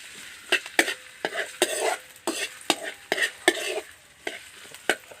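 Ginger, onion and garlic sautéing together in a pan over a charcoal stove, with repeated sharp scrapes and stirring clatter over a low, steady sizzle, close and fairly loud with no talking.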